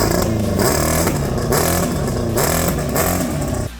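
A 1987 Kawasaki GPX 750R motorcycle engine revs close by, running rough and clunky with an uneven, lumpy drone that holds steady and loud before briefly dipping at the end.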